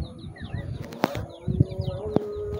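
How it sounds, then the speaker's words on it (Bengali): Pigeons take off with several sharp wing-flap bursts among close chirps and soft bird calls, heard nearby and outdoors with no voices. "এই যে কবুতর উঠতেছে গাইস"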